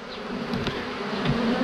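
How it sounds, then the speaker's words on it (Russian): Dense, steady buzzing of many bees close by while honey-filled frames are handled, a continuous droning hum with no voices. "Ну и пчелы, конечно, богато."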